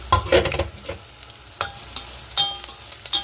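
Onion, green chili and pulao spices fry in a pan for vegetable biryani, stirred with loud, close bursts of scraping over a crackling sizzle, then quieter stretches between strokes.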